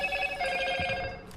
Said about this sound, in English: I wish my phone would stop going off like that.